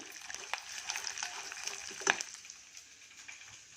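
Tempering spices fry in hot oil for mango chitranna: mustard seeds, chana and urad dal, cumin, fenugreek, curry leaves and sun-dried chillies. The sizzle is soft and steady, with small pops and one sharper crackle partway through, and no voices.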